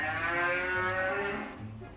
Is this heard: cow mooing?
yes